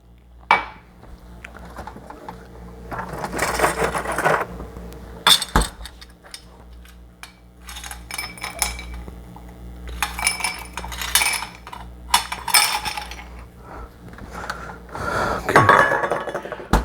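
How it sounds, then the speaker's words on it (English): Ice cubes clink and rattle against a chilled cocktail glass at a home bar, in several bright bursts of jangling and tumbling with quieter gaps between, close and fairly loud. "Put a bunch of ice in there so it gets the glass nice and cold."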